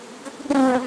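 A swarm of honeybees hums steadily, close and growing louder halfway through, a dense droning buzz with no voices over it.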